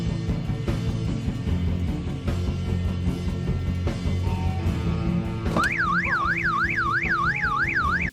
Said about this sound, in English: backs into the car and sets the alarm off